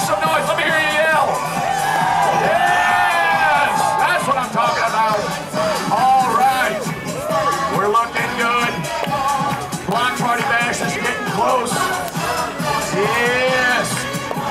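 A theme park crowd at a Hollywood Studios block party yells, whoops and cheers over loud pumping music, many voices rising in waves and shouting together for the whole stretch.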